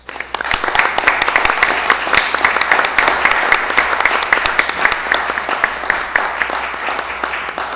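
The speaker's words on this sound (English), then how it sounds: "let's give them a round of applause" Attendees at a county board meeting give a sustained round of applause, dense and even claps throughout, fading slightly at the close with little talk.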